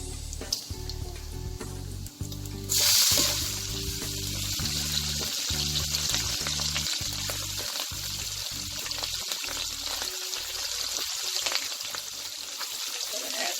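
Corn frying in half a stick of butter in a pan for Southern fried corn: a loud, continuous crackling sizzle that surges when more goes in, with stirring clatter underneath and no speech.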